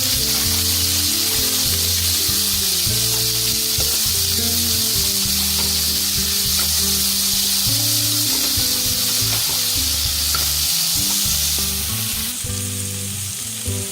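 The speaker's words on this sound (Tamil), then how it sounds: "கொண்டக்கடலையை இதோடு சேர்த்துடலாம் சேர்த்துட்டு இதை நல்லா நம்ம வந்து வதக்கிட்டுலாம்" Chickpeas sautéing in a hot pan for a festival offering dish, giving a loud, steady, close sizzle that runs unbroken through the whole stretch with no voices.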